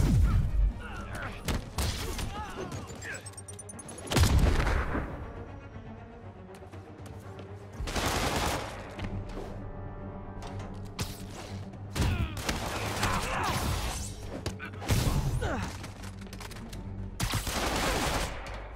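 Armed enemies firing guns in Marvel's Spider-Man video game: loud bursts of gunfire and impacts come in clusters, broken by quieter stretches with crashes and game effects.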